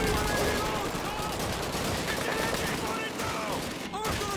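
An MG42 machine gun rattles in rapid, sustained bursts in the World War II shooter Call of Duty 2, with dense battlefield gunfire packed throughout.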